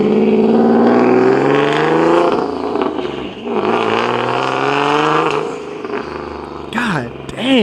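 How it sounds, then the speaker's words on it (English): A turbocharged Nissan 370Z Nismo revs hard and close, its engine note climbing and falling through several loud sweeps, while people talk over it. "that car sounded good, but Lord, it sounds good in person."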